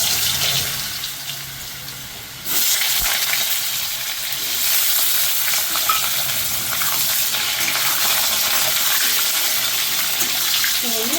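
Potatoes fry with cumin seeds in a pan, making a continuous close hiss and sizzle that grows louder after a brief quieter start, with a few faint clinks and no clear speech.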